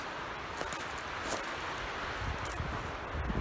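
Outdoor wind gusting across a microphone on a trail in the woods, a steady loud rumbling rush with rustling leaves and swelling bursts, no speech.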